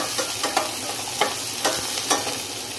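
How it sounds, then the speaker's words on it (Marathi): Green chillies and cashews sauté in a hot pan, a bright steady sizzle broken by regular scraping strokes from the stirring spoon, close and fairly loud. "परत त्याला चांगलं व्यवस्थित परतून घेऊया।"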